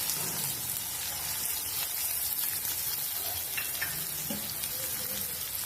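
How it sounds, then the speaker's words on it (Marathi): Sliced onion with a pinch of asafoetida sautéing in a pan with a steady, soft sizzle and faint stirring scrapes, no voices. "हे छान परतून घ्यायचे"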